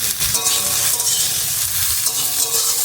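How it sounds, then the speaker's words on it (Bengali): Washed sour roselle leaves sizzle and crackle loudly in a hot pan with whole spices as they are stirred, a steady close-up frying hiss with soft scraping. "এবারে ধুয়ে রাখা টক ঢেঁড়সটা দিয়ে দিলাম"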